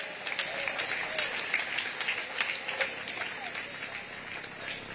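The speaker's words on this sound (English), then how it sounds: "Ladies and gentlemen, round of applause to our head of state." A crowd at a presidential investors' conference in Kololo applauds the arriving head of state, Museveni. The clapping is steady, distant and fairly soft, a patter that continues for about five seconds with no one speaking over it.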